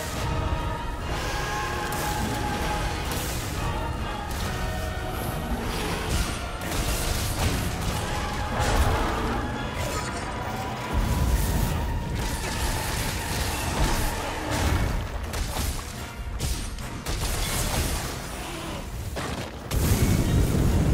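Cannon fire in the video game Monster Hunter World: Iceborne during a battle with a huge monster, with dense booming blasts and crashes layered over constant loud game din.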